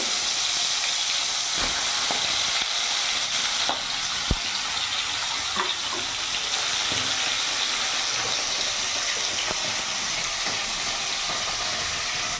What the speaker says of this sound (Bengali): তেল গরম হয়ে গেছে, এবার আমি এক এক করে মাছগুলো ছেড়ে দেবো